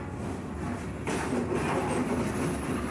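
Night sleeper train to Lao Cai, Vietnam: a steady rumble of railcars on the track with faint clickety-clack from the wheels, continuous and close, swelling a little louder partway through, with no voices.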